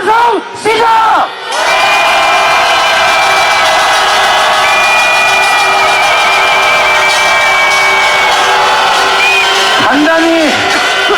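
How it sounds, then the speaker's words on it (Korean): A huge crowd at a street rally calling for Park Geun-hye's resignation and Lee Jae-yong's arrest lets out a loud collective roar. It follows a few brief shouts and holds as a sustained, massed cheer. "이재용 구속을 바라는 함성 시작!"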